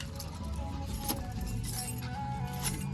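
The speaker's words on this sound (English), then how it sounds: "Got so many keys that they just everywhere." A bunch of keys jangles and clinks near a 1985 Chevy El Camino, with a steady busy metallic rattle and faint background noise throughout.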